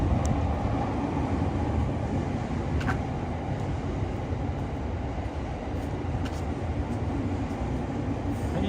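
A train rumbles steadily over tracks above a pedestrian tunnel in Tokyo, a continuous loud rolling roar with a few faint clicks on top, heard from close below.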